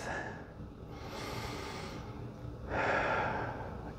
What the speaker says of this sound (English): I'm going to invite you to take a deep breath